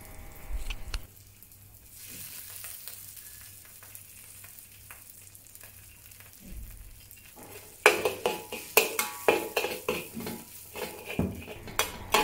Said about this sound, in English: use the wok spatula to mash the preserved bean curd until it turns into a paste